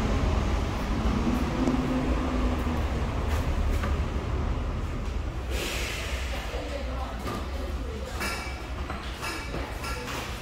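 Large underground subway station and market at Bupyeong, South Korea, filled with a dense, loud, reverberant wash of crowd noise and a rumbling undertone, with scattered voices throughout.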